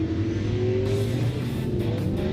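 Vaughn Gittin Jr.'s drift car accelerating hard during 2018 qualifying in Texas, a loud, close engine roar rising in pitch as the throttle opens, with rough exhaust texture and a brief higher-pitched surge partway through.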